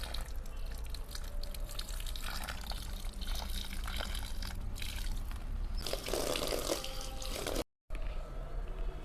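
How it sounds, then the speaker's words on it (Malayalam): Water poured onto a newly planted, wilting potted plant makes a steady close splashing and trickling that runs for several seconds, swells louder near the end, then cuts off briefly before resuming. "കുറച്ച് വെള്ളം ഒഴിക്കാം."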